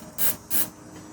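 Two short hissing bursts from a spray can aimed at a seized bolt on the rear subframe of an Audi A4 B7, each spray lasting about a fifth of a second, close up and separated by a brief pause.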